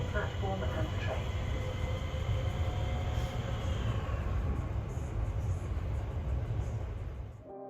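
A train pulling into Deptford station in South East London, a steady loud rumble of wheels on rails with faint high squeal tones, holding level before easing off at the end.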